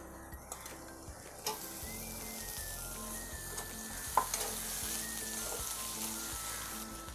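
Tomatoes dropped into fried onions in a pan for spicy bhindi bhaji, a constant close sizzle with scattered crackles and a few sharper pops, no talk.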